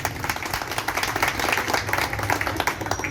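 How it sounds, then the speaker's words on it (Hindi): Audience applause for civil defence volunteers at a resident welfare association flag-hoisting event, a dense burst of many hands clapping, loud and sustained with crowd noise for the whole stretch. "एक बार इनके लिए जोरदार तालियां हो जाए।"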